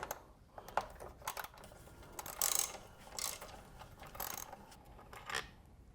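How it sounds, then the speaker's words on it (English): A ratchet or driver loosens two T40 bolts in a motorcycle battery compartment, producing quiet clicking and ratcheting bursts with short metallic scrapes, close up and faint. "I'm going to remove these 2 T40 bolts right here"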